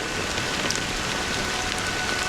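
Rain falling in the video game Honkai Star Rail, a steady dense patter of drops hitting surfaces, continuous and even with no voices.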